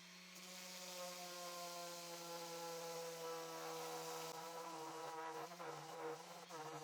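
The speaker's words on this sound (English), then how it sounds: "I'll do a full sanding of the piece using the orbital sander with 120 grit" A continuous whirring orbital sander with 120-grit paper drones steadily, with a harmonic hum and a slight rubbing texture against old wood, close and alone.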